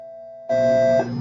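A bell rings as a steady electronic tone, joined halfway through by a louder, fuller ringing that holds briefly before easing off.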